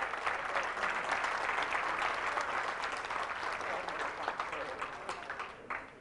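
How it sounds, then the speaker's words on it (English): A crowd at a high school class reunion applauds steadily, a dense wash of clapping that gradually thins and fades toward the end, with a few voices mixed in. "Let's give them a round of applause."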